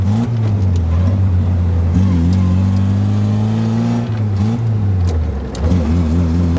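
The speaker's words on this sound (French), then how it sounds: "Ça pétarade, t'entends quand on est dans les tours." A Simca 5 car's engine droning loudly from inside while driving, a steady low hum that rises and dips with the revs and sputters slightly at higher engine speed.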